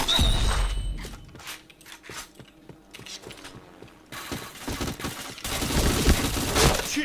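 Rapid bursts of gunfire from the online shooter game Point Blank crackle alongside mechanical clicks and reload clatter, loud and dense at the start and end with sparser shots between.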